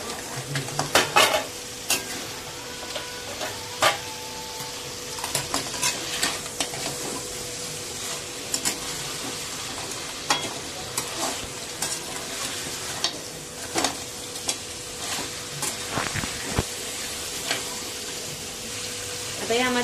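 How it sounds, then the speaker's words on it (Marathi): Masala crab being stirred and sautéed in oil in a pan makes a continuous sizzle broken by repeated sharp scrapes and clanks of the spoon against the pan, close up, without talk. "तेल सुटेपर्यंत परतायचं आहे।"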